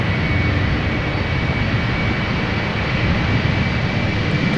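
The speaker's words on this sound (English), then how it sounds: "here she goes, KLM flight 1917, Embraer 190" A KLM Embraer 190 jet takes off at Amsterdam Schiphol Airport, and its engines give a loud, continuous, broadband roar that holds steady with no talk over it.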